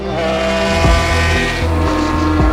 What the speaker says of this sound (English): 12 cylinders thundering with the sound of 600 horses